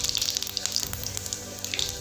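Whole cumin seeds sizzling in hot oil while jackfruit curry is being made, a close crackling fry with quick popping spits scattered over a steady hiss.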